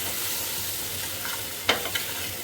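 Taro (kochu) fries roast in a pan with a constant broadband sizzle, punctuated near the end by one sharp spatula scrape and a lighter follow-up clink.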